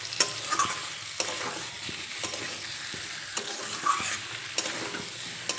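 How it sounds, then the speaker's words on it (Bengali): Chopped tomatoes are stirred in a frying pan for an egg and potato curry, a soft steady sizzle with repeated scraping clicks of the spatula against the pan, close and alone. "টমেটো দিয়ে একটু নেড়ে চেড়ে নেব।"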